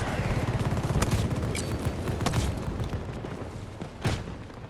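Gunfire in the video game Battlefield 2042: dense, rapid volleys of shots and thumping impacts crackle continuously, with a sharper burst near the end.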